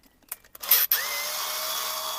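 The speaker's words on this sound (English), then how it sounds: "this is a really slow drill, so this will take a while" A slow power drill bores into a carbon fiber chassis part after a few short bursts of rubbing and handling sounds. The motor then settles into a steady, loud, continuous whine that holds to the end.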